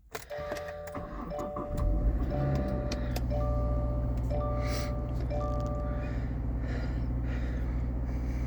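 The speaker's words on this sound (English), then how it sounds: "we're going to turn the car on" A 2023 Subaru Forester Wilderness powers up indoors: electronic chimes and whirring come first, then the engine catches after about two seconds and settles into a quiet, steady idle hum with repeating warning tones.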